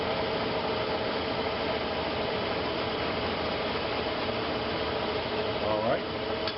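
A Sjogren lathe chuck spinning in back gear, a steady close mechanical whir and hum that holds evenly throughout, with a faint squeak near the end.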